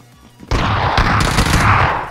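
Gunfire in the video game PUBG breaks out suddenly after a short quiet moment: loud, rapid overlapping shots in a sustained burst, like automatic fire.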